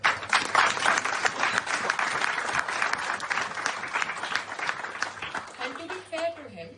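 Sustained audience applause fills a victory celebration in London marking a third-term election win, steady and dense clapping from a large crowd that tapers slightly toward the end.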